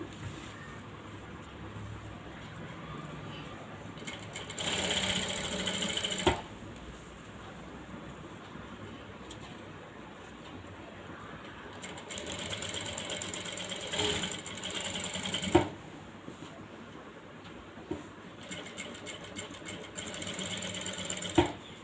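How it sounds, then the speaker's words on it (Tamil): An electric sewing machine stitches elastic onto fabric in three separate runs of rapid, whirring stitching, with quiet pauses between the bursts. "இலாஸ்டிக்கில் ஒரு பக்கத்துக்கு மட்டும் இப்போ தைக்கிறோம்"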